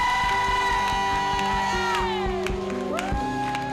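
A crowd cheers and shouts steadily over loud music with a strong beat at a church worship service, voices whooping throughout.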